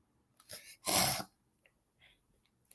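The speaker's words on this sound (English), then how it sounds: "I'm trying to clear my throat" A single forceful throat clearing with a short raspy burst, preceded by a softer rasp and followed by a few faint mouth clicks in quiet.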